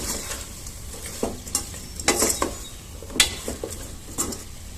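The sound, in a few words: stirring chilli powder and sambar powder into drumstick sambar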